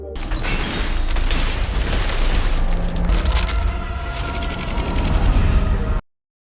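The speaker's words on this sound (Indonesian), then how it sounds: "pesawat Lander itu meledak" A spacecraft lander explodes in a heavy boom that rumbles for several seconds, crackling and roaring before cutting off abruptly.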